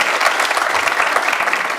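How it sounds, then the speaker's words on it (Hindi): Studio audience applause during a game show episode, dense rapid clapping from many hands, steady and close for the whole stretch without talk. "तालियां हो जाए"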